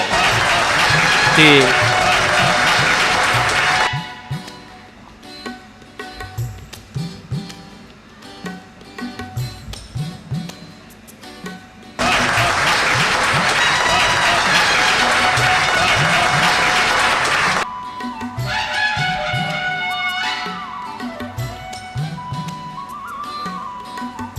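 An audience at a medical camp felicitation ceremony bursts into loud, sustained clapping twice, each burst lasting several seconds, with quieter stretches of talk and background sound in between.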